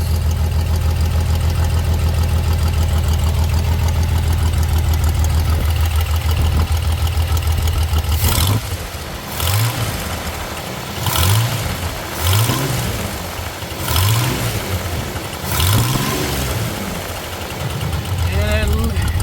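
Dodge Challenger V8 idling steadily, then blipped through several sharp throttle revs that rise and fall in a rough rhythm, loud and close in an open engine bay with a suspected oil leak.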